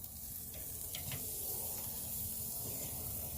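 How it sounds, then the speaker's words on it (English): Prime beef steaks searing on a Weber kettle grill give off a steady, close crackling sizzle with faint hissing pops. It carries on unbroken, and nobody talks over it. "Let's listen to this sizzle."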